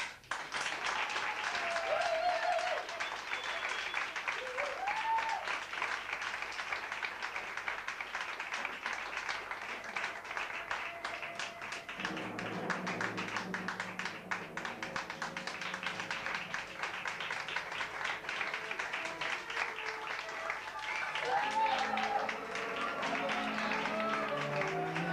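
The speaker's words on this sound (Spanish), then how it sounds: "Yo le pediría, por favor, que recibamos con un gran aplauso" An audience at a dance performance applauds in a long, steady, moderately distant wave of clapping, with voices and brief calls rising over it.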